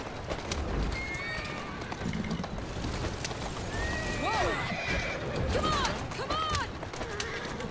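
Video game horses in Assassin's Creed Syndicate whinny several times over a constant rumble of hooves and movement, the neighs rising and falling at mid distance.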